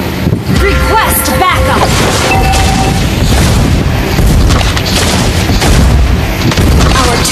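A turret destroyed in a Mobile Legends-style MOBA match, a loud booming blast with gunfire-like crackle and rumbling noise, mixed with voice lines and game effects.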